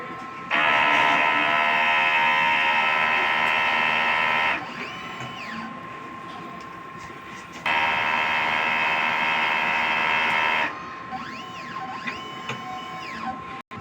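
A DTF printer running a print head clean, with two long loud stretches of steady whirring pump and motor drone, each followed by quieter mechanical movement with rising and falling whines, close and alone.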